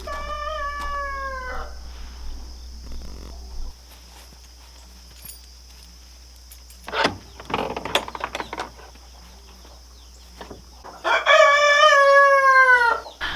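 Backyard homestead chickens roosting in the coop in the morning, with a rooster crowing loudly near the start and again at the end, scattered clucks and shuffling in between.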